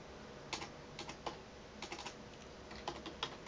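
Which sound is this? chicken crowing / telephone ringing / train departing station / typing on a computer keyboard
typing on a computer keyboard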